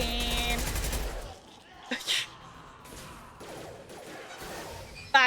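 Gunfire in Mass Effect 2 rattles in a loud opening burst, then thins to scattered shots and impacts with a sharp crash near the middle and another at the end, over game music.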